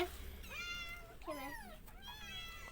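A cat stranded on an island meows repeatedly in long rising and falling cries, three or four drawn-out calls close by over a steady low background hum, with no speech.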